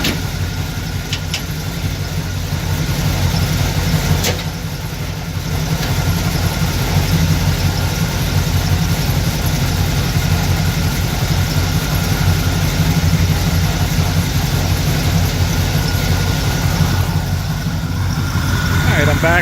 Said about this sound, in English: 454 has a great sound to it, nice smooth idle.